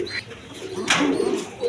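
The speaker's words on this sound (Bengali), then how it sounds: "দেখেন এইখানে কবুতর কারে কয়, একদম ফ্রেশ কোয়ালিটির রাসগোল্লা কবুতর" Pigeons at a crowded farm selling birds, eggs and chicks coo softly in a short, close burst, with a few brief chirps among them.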